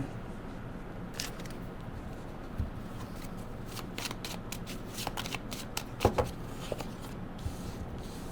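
A new oracle card deck, its cards still sticking together, is shuffled by hand in soft repeated riffling bursts that grow busier toward the middle, with a few louder snaps of cards close by.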